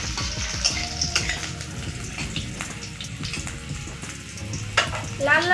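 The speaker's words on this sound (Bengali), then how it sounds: "দিয়ে দিব 2টো কাঁচা লঙ্কা কুচি, এটা ভালো করে ভেজে নেব।" Chopped green chillies frying in a pan in a home kitchen, a continuous bubbling sizzle with scraping stirs and clinks, close and fairly loud.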